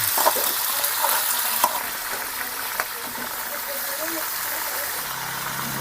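Mussels frying in a pan with garlic and ginger give a steady, close sizzle with some stirring clatter, and a voice talks intermittently over the cooking.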